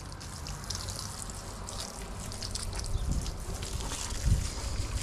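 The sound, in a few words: rinsing electric bike with water, no pressure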